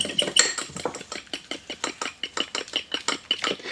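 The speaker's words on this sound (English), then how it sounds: "I'm just going to grab a fork right from there, and then I'm just going to whisk it up." A fork whisks a flax meal and water mixture in a bowl as an egg substitute for eggless gluten-free butter tarts, giving quick, rhythmic metallic clinks and scrapes, about four or five strokes per second, close and clear with no talking.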